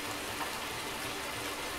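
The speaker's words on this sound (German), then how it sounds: "Der Regen macht alles sauber." Heavy rain pouring down outdoors, a dense steady hiss of drops that stays even and close throughout without pauses.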